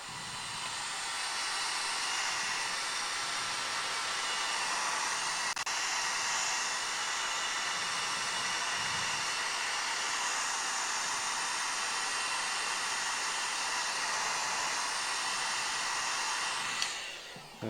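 A hair dryer blows steadily to dry paint on a 15mm scale miniature model, its broad airy hiss and whine running continuously and loud at close range for the whole stretch, with no speech.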